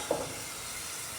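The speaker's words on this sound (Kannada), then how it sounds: "ಈ ಈರುಳ್ಳಿ ಕಂದು ಬಣ್ಣ ಬರೋವರೆಗೂ ನಾವು ಹೀಗೆ ಫ್ರೈ ಮಾಡಬೇಕು" Onions and curry leaves fry in a pan for egg masala, a faint, steady hiss of sizzling oil with no talk over it.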